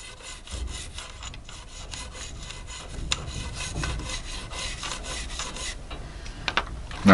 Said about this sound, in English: we're going to scrub the rails inside of the receiver on both sides, as well as the top of the hammer